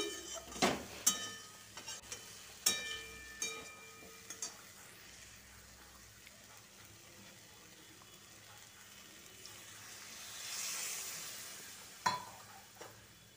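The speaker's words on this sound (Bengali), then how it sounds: "এবার গরম জল দিয়ে দিচ্ছি।" Hot water goes into a pan of cauliflower-stalk curry cooked with radish, eggplant and lentil dumplings. Soft sizzling runs under sharp clinks of a utensil against the pan, and a gentle hissing swell follows as the water hits the heat.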